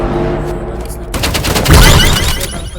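Sniper rifle fire in a video game: a burst of loud, sharp gunshot reports kicks in after a second of quieter game ambience, then trails into rumbling echo.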